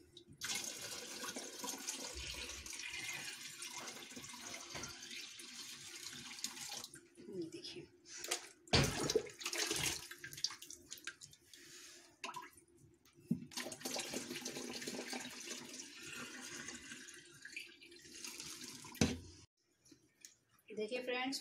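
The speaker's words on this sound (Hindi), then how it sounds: "आराम आराम से हम इसमें पानी भरेंगे।" Clean water is poured slowly from a mug into a home aquarium over gravel and stones, giving a soft, steady trickle and splash with brief pauses and faint clicks, heard quietly at close range.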